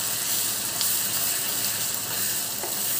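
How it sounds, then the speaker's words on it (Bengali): Potatoes and onions fry with spices in a pan for Bengali fish-head chorchori, making an even, unbroken sizzle close by with a faint clink now and then. "আলু পেঁয়াজটা কষিয়ে নেব"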